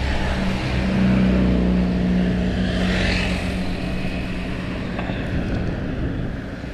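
A Yamaha motorcycle engine being tuned roadside on a busy afternoon street hums and drones steadily at a moderate distance, with a revving swell midway and passing traffic noise around it.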